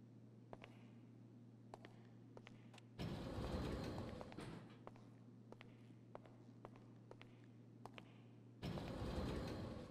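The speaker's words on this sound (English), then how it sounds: "Your personal vehicle is being brought up now." A personal vehicle being brought up in GTA Online: footstep clicks over a low steady hum, broken by two surges of rough engine noise as the car approaches.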